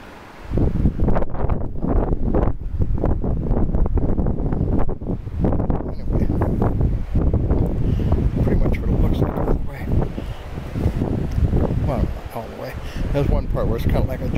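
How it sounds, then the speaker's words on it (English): Strong wind buffets the microphone throughout a hike along the Santa Cruz River in New Mexico, a loud continuous roar with gusty surges. "Another damn wind."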